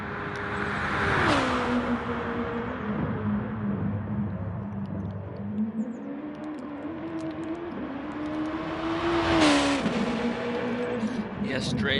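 Race cars in Gran Turismo Sport roar past in an online league finale, engines rising and falling as they accelerate and shift, with commentators talking throughout.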